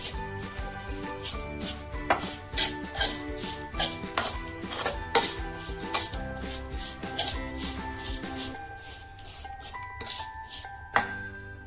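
A spoon stirs kachu katlu mixture in a pot, making repeated scraping and tapping strokes in an uneven rhythm, close and clear, with a steady musical tone playing underneath.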